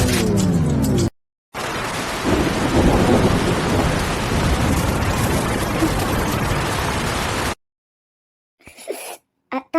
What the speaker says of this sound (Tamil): என்ன மழை எப்போ நிக்கும்?